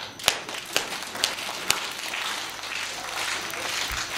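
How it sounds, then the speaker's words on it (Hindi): An audience at a comedy show claps on cue: a few loud, separate hand claps at first, then a softer, thinner patter of clapping, with a brief low thump near the end. "ऐसे बजवाते तालियां।"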